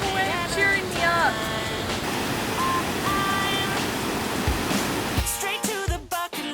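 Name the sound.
waterfall at campsite near Lake Superior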